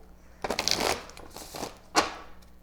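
Cards riffled and shuffled close by in quick papery bursts, ending with a sharp snap, with no talking.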